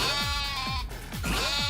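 Goats in Yakuza: Like A Dragon bleat several times in quick succession, loud and close, each call a wavering downward bah.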